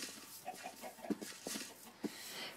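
A chicken in the iPop Adventure video game clucks in a series of short, soft clucks spread across a few seconds, heard alone.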